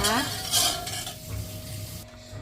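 Spoon scraping and stirring rice flour into thick coconut milk in a metal pot, a close, continuous swishing with light clinks from the utensil against the pan.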